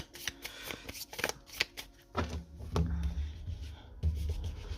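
Tarot cards are handled and laid out one by one on a table, with quick close riffling, sliding and soft taps, followed by lower rubbing thuds.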